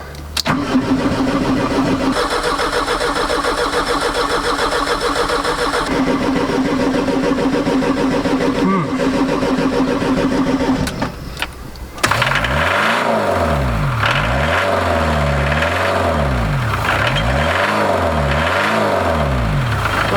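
A Talbot Express motorhome's diesel engine cranks with a long, laboring starter whirr, then catches and runs loud and close. It revs up and down in repeated swells and settles back toward idle between them.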